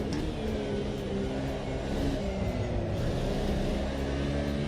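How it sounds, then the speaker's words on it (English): Race car engine in the sim racing game Automobilista 2, a loud, sustained roar with a continuous drone of engine harmonics holding steady throughout, heard alone without talk. "The car sounds are nice,"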